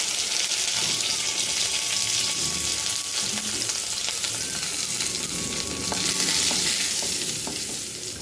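Green chillies, curry leaves and onion sauté in oil in a pan with a steady, close sizzle and occasional stirring scrapes throughout.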